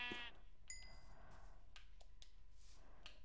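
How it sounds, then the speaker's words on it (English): Sheep bleating in a survival video game, a short bleat at the start followed by soft game chimes and faint clicks, with no talking. "I see some sheep already"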